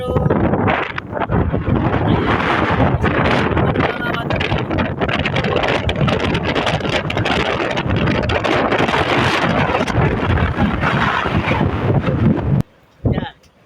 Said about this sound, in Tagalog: yan, lakas ng hangin.